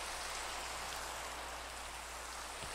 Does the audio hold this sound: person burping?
no